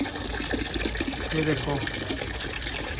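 Motor-pumped cold water for bathing runs and splashes in a continuous loud rush, while someone speaks briefly over it.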